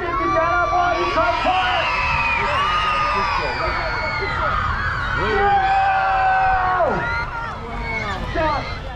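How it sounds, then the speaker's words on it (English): A crowd at a bush camp near Gidgegannup, Perth screams, whoops and cheers continuously, with high children's shrieks and yells rising and falling throughout and a voice calling out among them. "I want everyone screaming."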